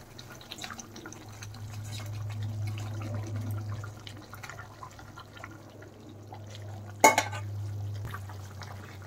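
Fish curry gravy with fried rohu fish bubbles steadily in a pan, a low continuous simmer with soft drips and faint liquid stirring, and one brief louder clatter near the end.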